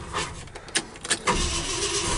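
A 1972 Ford F100 XLT short bed pickup cranks and starts: a few quick starter bursts, then the engine catches and settles into a steady close rumble.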